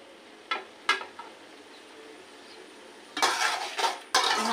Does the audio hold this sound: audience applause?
no